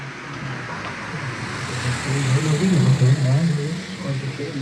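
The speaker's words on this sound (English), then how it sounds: "Oh, there's a car coming." A car approaches from behind on a road and passes, its engine hum and tyre noise swelling to a peak and easing off, moderately loud, with a faint voice present.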